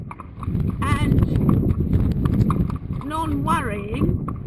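Horse hooves clip-clop steadily through a ride with a gentle young horse, close and continuous, while a person talks calmly over them.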